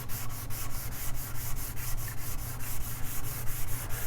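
A kit guitar body is sanded by hand with steady, rhythmic back-and-forth strokes, close and fairly loud, scratching repeatedly over roughly four seconds with no voices.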